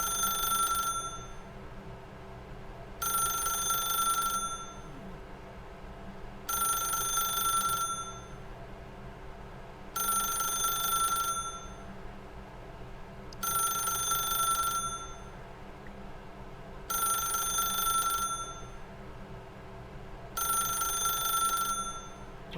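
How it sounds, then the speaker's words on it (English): A telephone rings repeatedly in the video game The Stanley Parable: Ultra Deluxe, seven evenly spaced bursts of bright, rattling bell trill separated by pauses of quiet low hum. "I don't want to answer that phone. I know she's ringing."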